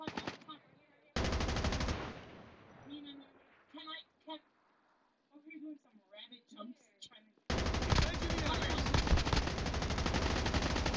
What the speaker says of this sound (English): Hold on, there's people shooting me.